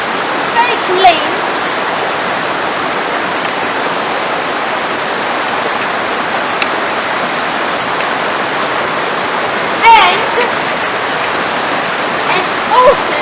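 Clean, very cold river water on a January day flows steadily near a bridge, a constant broadband rush like a small waterfall or stream close by, with a few brief knocks and handling bumps.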